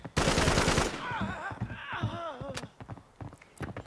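Muffled, suppressed gunfire from Arena Breakout: a dense burst of rapid shots at the start, then scattered single pops further off, with voices talking over it.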